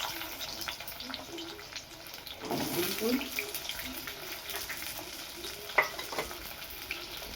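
Potato pieces going into hot oil left from frying hilsa fish, a soft steady sizzle with a louder burst of spattering midway and occasional clinks of a utensil against the pan.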